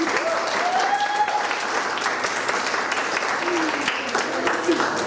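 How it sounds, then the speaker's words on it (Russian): Audience applause at a jubilee celebration for a woman named Lena, a steady dense wash of clapping from a crowd that holds at an even level throughout, with some voices faintly mixed in underneath. "Аплодисменты."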